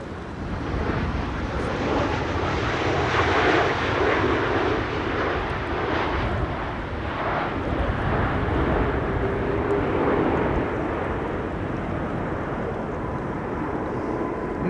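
Boeing 737 MAX 8 from Istanbul landing at Amsterdam Schiphol Airport in stormy weather, a loud, continuous jet engine roar and rushing air that swells and fades slightly, with no talk.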